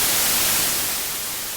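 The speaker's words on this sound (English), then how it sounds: "This is white noise." Steady broadband white noise hiss played as a sleep aid, loud and even throughout, fading slightly toward the end with no other sounds.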